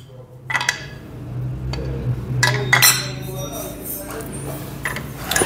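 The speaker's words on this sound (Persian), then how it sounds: "فولیمون رو تو موقعیتش قرار بدیم" Metal CVT pulley parts of a Yamaha NMAX scooter clinking and knocking as the pulley is fitted into place, several close, bright metallic clinks over a low hum, with some faint speech.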